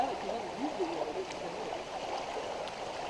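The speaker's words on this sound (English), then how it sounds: "I think this is one of the creeks we've been following" A creek flows beside the Appalachian Trail in July, giving a constant soft burbling rush with no break.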